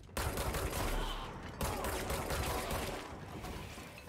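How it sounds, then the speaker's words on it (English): Gunfire from the video game Control: a dense, loud burst of rapid shots, briefly broken and then resumed, with no talk over it. "Ooh, shooting feels good."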